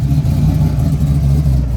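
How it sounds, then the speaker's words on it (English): Ford Maverick with a stick-shift 347 engine revving on the street, a loud steady low rumble close by that holds throughout without clear breaks. "Rev it up."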